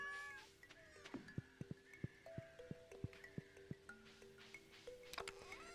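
A cat meows repeatedly in the farming game Stardew Valley, with short high mews over a backdrop of game tones, steady plinking notes and soft rhythmic taps. No voices are heard.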